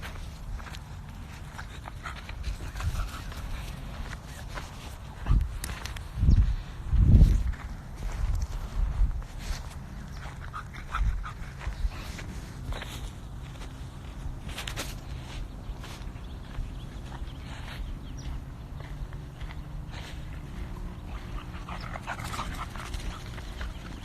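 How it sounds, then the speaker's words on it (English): A big dog outdoors, panting and padding about as it runs to fetch a bird, with a few louder thumps and steps early on over steady background noise and no speech. "Go get the bird, big dog."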